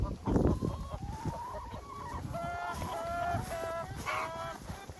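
Egg-laying hens cluck and call in irregular bursts, fairly faint, with some rhythmic vocal patterns and a low-level outdoor background.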